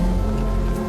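Steady, loud rain pours down outdoors in a dense, constant hiss with no gaps.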